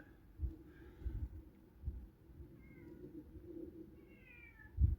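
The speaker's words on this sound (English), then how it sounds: "I think that's the missing cat." A cat meows several times outdoors on a winter canal walk, faint and somewhat distant, with soft rustling and low thumps in the background and no talking.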